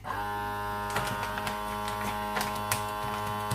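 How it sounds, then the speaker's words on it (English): A vacuum sealer hums steadily with a buzzing motor as it draws air from a bag of pumpkin curry, with scattered small clicks and crinkles close by. "push it down and press the vac and seal button"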